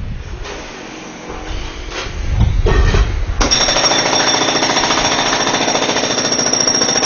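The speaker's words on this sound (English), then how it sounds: "And they're now drilling." A jackhammer pounds on an apartment balcony close by, starting after a few seconds of rumbling and then hammering in a loud, rapid, steady rhythm without pause.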